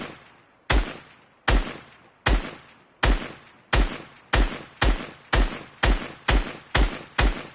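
A SCAR rifle fires in a video game, with about a dozen loud, sharp single shots, each with a short decaying tail, spaced around half a second apart and speeding up toward the end.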